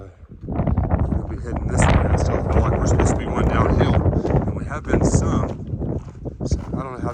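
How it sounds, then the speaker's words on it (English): Strong wind gusts buffet the microphone on an exposed mountain ridge along the Appalachian Trail near Mizpah Spring Hut, roaring loud and uneven throughout while a hiker climbs, with heavy rumbling blasts and footsteps mixed in. "Still climbing in the wind."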